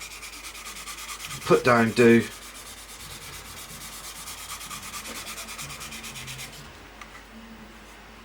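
Light sanding on a raised part of a Revell 1/32 Messerschmitt Bf110 C-2 plastic model kit makes a soft, rapid, continuous rubbing rasp close to the mic, with a brief spoken phrase early on.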